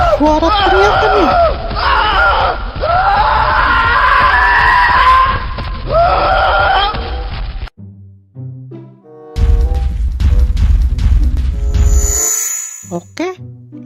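Ondel-ondel toy screaming, a long wavering shriek with sliding pitch over noisy clatter, then a brief gap and further squeals and bursts, loud and close.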